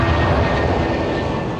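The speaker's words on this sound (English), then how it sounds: "At around 140 miles an hour, the Boeing lifts clear of the runway." Boeing airliner taking off from the runway at Bristol Airport, a steady, loud, broadband jet engine roar that holds constant throughout with no talk.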